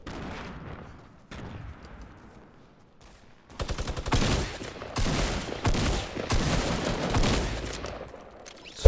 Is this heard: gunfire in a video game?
yes